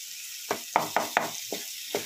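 Papaya halwa sizzles in a pan as it is fried and stirred, with about six distinct scraping stirs landing at an uneven rhythm over a low, steady sizzle, close and moderately quiet.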